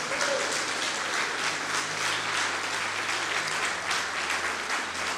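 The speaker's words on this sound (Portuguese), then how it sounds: "Vamos aplaudir o Senhor e glorificar o seu nome." A church congregation applauds together in sustained, steady clapping that fills the room for the whole stretch, dense and even with no speech over it.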